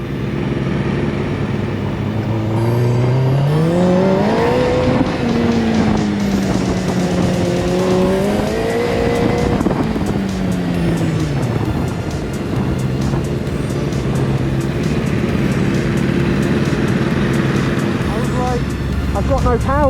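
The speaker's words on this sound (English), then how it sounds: "2 road legal go-karts together for the first time." Two road-legal go-karts fitted with motorbike engines drive on a street, engines revving up and down in rising and falling whines, loud and near, with a steady drone later on.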